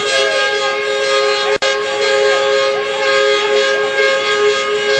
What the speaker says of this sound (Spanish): Nos contaban que en Lima es habitual eso, pero hoy se escuchan en Itagüí.